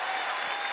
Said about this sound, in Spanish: alguien que le dé un fuerte aplauso al Señor